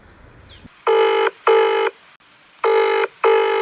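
Four electronic dial tones beep in two pairs, each a loud steady half-second tone with short gaps, after a brief quiet start.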